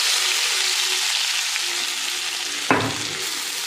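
Ginger, garlic and coriander drop into hot oil already frying cumin and mustard seeds, giving a steady close sizzle with a sharp burst of crackling as they hit the pan, then an ongoing hiss.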